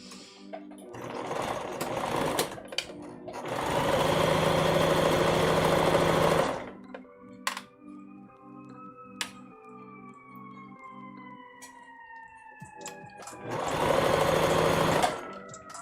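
A sewing machine stitching short seams on a test dress, running in steady bursts of several seconds separated by quieter gaps with faint whirring, close and clear.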